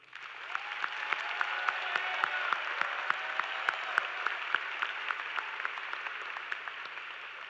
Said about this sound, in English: Would everyone in the auditorium help me give a round of applause to these graduates?